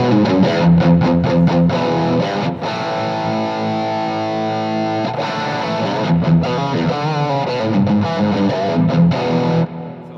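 Electric guitar played through a Rockman amp 1 on the classic channel with the tone turned fully up, giving a loud, distorted, chorus-tinged tone. Sustained chords alternate with choppy muted stabs throughout, and no one talks.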